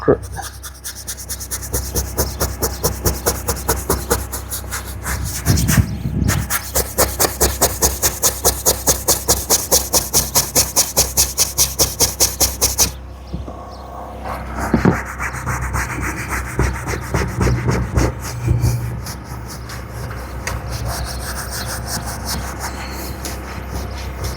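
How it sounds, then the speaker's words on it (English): An object is scrubbed with a fast, steady back-and-forth rubbing for about twelve seconds, stops briefly, then continues as a rougher, irregular scraping; the scrubbing is close and fairly loud, with occasional talk mixed in. "let's scrub this thing"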